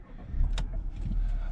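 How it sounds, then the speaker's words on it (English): A DS7 Crossback being started, a brief sharp starter burst followed by the engine settling into a steady low rumble close by. "I start the car"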